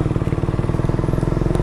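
A repaired Yamaha R15 V3 motorcycle engine runs steadily at idle close by, its rapid, even exhaust pulses thumping in a tight rhythm with no talk over it.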